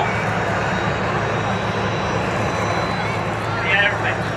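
A large transport aeroplane with its engines running at an airshow, a loud continuous drone with a steady low hum, while someone talks over it.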